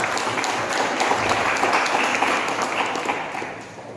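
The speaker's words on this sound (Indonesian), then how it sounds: "Beri tepuk tangan untuk anak-anak Forum Kabupaten Sintang." Dense applause from an indoor audience at a regional children's forum event, steady and loud for several seconds before thinning out toward the end.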